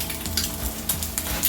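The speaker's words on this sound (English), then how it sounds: "technically the little bubbles means it's frying too hot" Egg frying in hot oil in a pan on a gas stove at medium-high heat, a steady close crackling sizzle with small popping bursts of bubbles, no talk.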